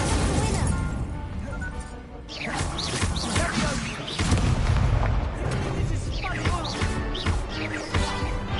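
Incendio fire spells cast during combat in the wizarding game Hogwarts Legacy, heard as loud, dense bursts and whooshing blasts layered with crashing battle effects, nearly continuous throughout.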